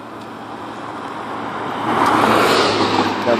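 A Porsche passes on the street with an engine note that builds from a low idle hum into a louder rushing rev around the midpoint, then holds, with traffic noise behind and no talking.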